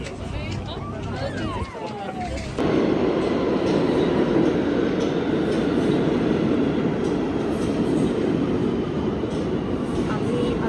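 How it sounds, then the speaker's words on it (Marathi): A New York City subway train rumbles along underground, a loud, steady roar of wheels and carriage noise that swells after a brief quieter moment with a voice near the start. "ट्रेननी आम्ही जात आहोत, सबवे खाली आलेलो आहोत."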